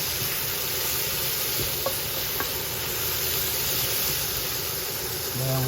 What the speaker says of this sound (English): now we take the mushrooms and the Romanesco back in the pan and toss it with all the other ingredients